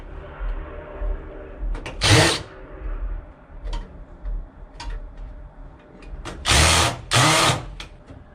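A power driver backs screws out of a computer drive caddy, giving several short bursts of whirring near the mic. Lighter clicks and handling noise of the metal parts fall between the bursts.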